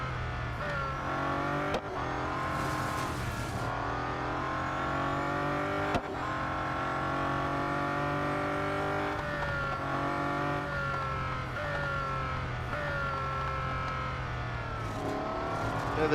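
A Bugatti Centodieci hypercar races in Real Racing 3, its engine droning loud and steady throughout with harmonic pitch sweeps as it shifts and accelerates, punctuated by sharp gear-change clicks, with no talking.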